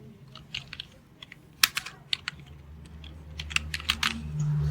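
Keys clatter on a computer keyboard while a name is typed into MS Word, in short bursts of rapid clicks separated by brief pauses, close and fairly quiet.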